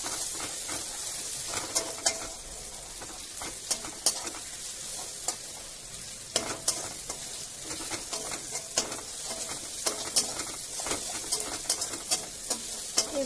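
Spices with sugar and Kashmiri chili powder sizzling in a pan, a constant near hiss broken by frequent sharp clicks and scrapes of a spoon stirring against the metal, no voices.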